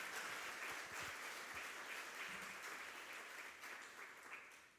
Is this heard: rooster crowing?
no